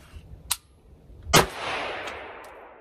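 Sharp, loud gunshot from a Faxon 11.5 inch rifle fired unsuppressed, preceded by a smaller crack and followed by a long echoing reverberation outdoors.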